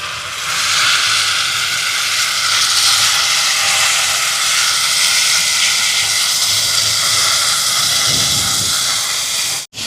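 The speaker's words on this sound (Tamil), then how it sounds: "இப்போ புளி கொதிச்சு வருது பாருங்க" Tamarind water heating up with fried onion for a fenugreek curry, making a loud, steady steamy hiss that holds evenly close-up throughout, with no talking.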